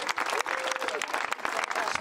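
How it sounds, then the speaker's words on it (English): Audience applause at an outdoor mountain-bike enduro podium ceremony in Val d'Allos, steady dense clapping throughout with a crowd murmur underneath. "Ladies and gentlemen, big applause!"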